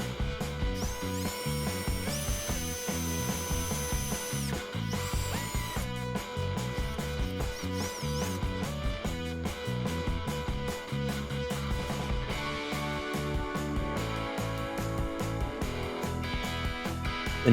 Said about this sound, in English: Now I started to assemble the jetpack enclosure by screwing it together.